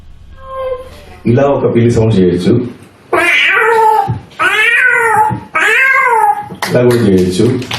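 A performer at a state-level mimicry competition vocally imitates three or four cats meowing at once, a series of loud, wavering, overlapping meows and caterwauls in bursts separated by brief pauses.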